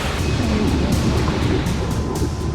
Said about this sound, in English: Suddenly, we get hit by a big set of waves, and things get super intense.